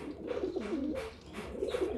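Soft, low cooing from a pigeon and Kelantan turtle dove hybrid repeats in a steady rhythm, close by with no other sounds.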